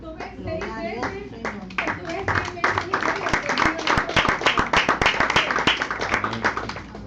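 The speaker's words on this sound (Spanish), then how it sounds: "el aplauso es para el Señor porque Él es el que lo hizo" A church congregation breaks into clapping, starting scattered and swelling into dense, loud applause, with voices speaking and calling out over it.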